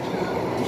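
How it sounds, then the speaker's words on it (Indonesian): A train pulling into a Hong Kong station, a steady low rumble and rolling rail noise filling the short moment at close range. "keretanya datang guys"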